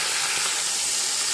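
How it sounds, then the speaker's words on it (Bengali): Tilapia pieces fry in hot oil with a steady, dense sizzle and hiss that holds unbroken and fairly loud throughout, no voices. "তেল গরম হয়ে গেছে, এখন মাছগুলো ভেজে নেব"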